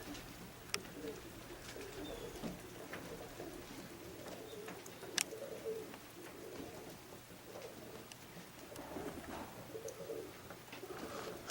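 Racing pigeons from a young bird team coo softly and steadily at a loft, with a few sharper bird calls and faint rain-like patter in the background.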